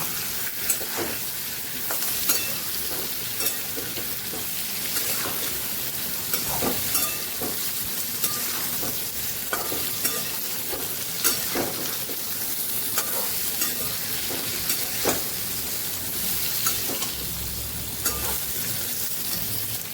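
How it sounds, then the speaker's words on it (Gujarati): Okra (bhindi) sautés in a pan for a Kathiyawadi stuffed vegetable dish, a continuous dense sizzle punctuated by frequent light scrapes and taps of a stirring spoon, close and steady with no voices. "ભીંડાને આપણે સરસ સાતળી લેવાના છે"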